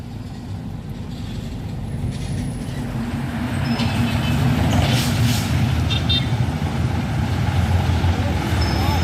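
A FAW trailer truck strains up a steep hill with its heavy diesel engine labouring in a loud, continuous low rumble that builds midway, while faint voices and scattered tones sit underneath.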